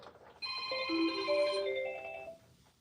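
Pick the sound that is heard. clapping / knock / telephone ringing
telephone ringing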